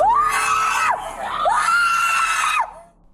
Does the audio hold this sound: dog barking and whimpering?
no